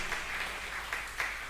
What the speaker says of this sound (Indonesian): Beri tepuk tangan lebih meriah lagi,